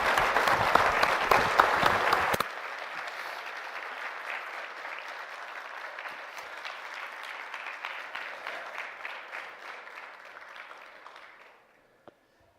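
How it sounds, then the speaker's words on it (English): Church audience gives a round of applause for a woman who shared her story; dense, loud clapping at first, then a steadier, softer round that gradually fades out. "Can we give Heather a round of applause?"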